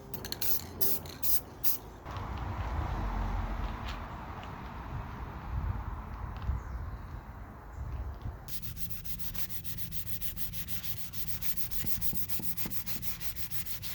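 A Stratocaster guitar body, already sanded and primed, is spray painted: several short bursts of hissing spray, then a long steady hiss that continues without talk.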